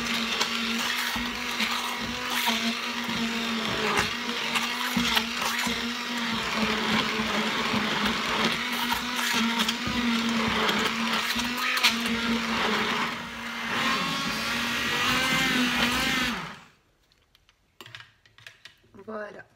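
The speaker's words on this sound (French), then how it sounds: "avec un mixeur, je vais venir mixer le tout jusqu'à ce que le beurre soit bien incorporé" An electric immersion blender whirs loudly and continuously while mixing butter into lemon cream, its steady motor drone shifting in pitch for about sixteen seconds before cutting off abruptly, leaving near silence with faint handling noises.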